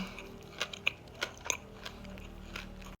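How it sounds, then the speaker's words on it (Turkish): Someone biting into a chicken döner wrapped in pita bread, a few soft, close crunches and chewing sounds spread over a few seconds in an otherwise quiet setting. "Bir diğer ısırık."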